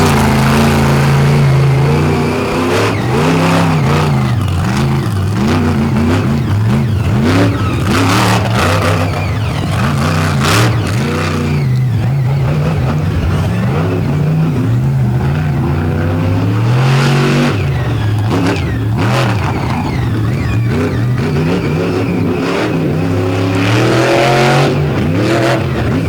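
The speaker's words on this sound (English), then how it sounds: "See what he does when he cuts this big C10 loose." A big Chevrolet C10 truck's engine roars and revs hard during a two-wheel stunt at a truck show, loud and close, its pitch climbing and falling through repeated throttle blips over the whole stretch with no talk.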